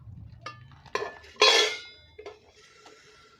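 A bowl set down inside a preheated pressure cooker on a rack while baking an apple cake, giving a few sharp metallic clinks and scrapes, one louder clatter in the middle, then softer ringing knocks.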